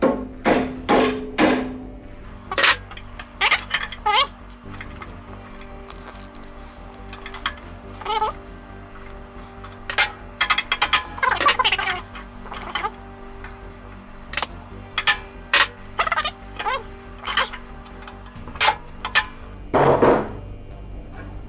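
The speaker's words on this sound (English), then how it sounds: "I'm gonna tap down with my hammer on the top here." A hammer taps down on top of an electrostatic air cleaner's motor during a restoration, a series of sharp, close metallic knocks in irregular bursts with quiet pauses between.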